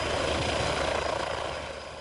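A helicopter's rotor and engine drone sits loud and close as a steady throbbing roar that fades slightly toward the end, heard alone with no voices.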